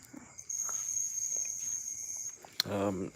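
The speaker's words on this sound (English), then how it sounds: "I'm gonna show you the grasshopper that's making sounds." A grasshopper chirps in a steady high-pitched trill throughout, close and fairly loud against quiet background, with a brief click near the end before a voice starts speaking.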